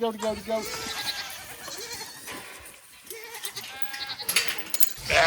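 Goats on a farm bleat repeatedly, close by and fairly loud, while a person talks over and between the calls.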